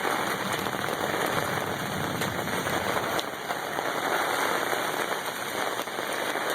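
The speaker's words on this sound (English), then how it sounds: "it is raining really" Heavy thunderstorm rain pours down steadily and loudly, a dense continuous hiss of drops close by with no break for the whole stretch.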